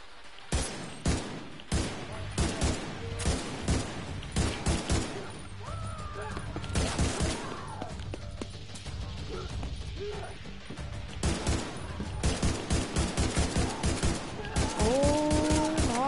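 Rapid, loud gunfire bursts from a firefight in The Division 2, sharp repeated shots in clustered volleys with mechanical clacks between them, continuing through the whole stretch with a little talk mixed in.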